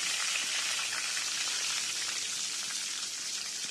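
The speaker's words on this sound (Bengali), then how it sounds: "এইবারে আমরা তেলে দিয়ে দেবো তেজপাতা তারপরে আমরা দিয়ে দেবো পাঁচফোড়ন" Bay leaf and panch phoron crackle and sizzle in hot oil, a dense, even frying hiss that stays close and steady throughout, with no voices.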